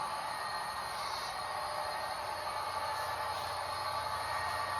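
A model train of Rapido stainless steel Budd cars in Via Rail livery runs on a home layout, giving a faint steady whirring rumble with a high hiss and no breaks or voices.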